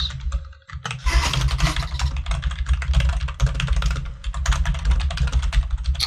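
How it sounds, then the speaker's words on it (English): Continuous typing on a computer keyboard, dense rapid clicking with brief pauses, close and fairly loud over a low steady hum. "I imagine that typing is someone giving it a name."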